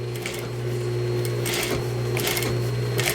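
A sewing machine gathers fabric for a dining chair slipcover, running in a loud, continuous close hum with a steady mechanical whir and brief shifts in speed, no voices over it.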